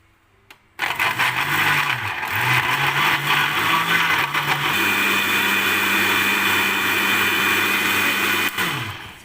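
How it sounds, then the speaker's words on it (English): Blender grinding coconut for a Filipino ginataang kalabasa dish, starting abruptly with a loud steady whirring roar that varies slightly in pitch, running several seconds close up before winding down, with no talk. "So now first we have to grind our coconut."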